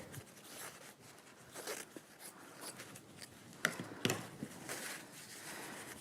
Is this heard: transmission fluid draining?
no